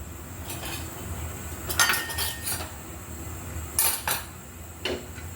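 A metal lid set loosely on a pressure cooker holding beef with radish, giving a few sharp clanks and clinks at intervals over a low steady hum of the running stove.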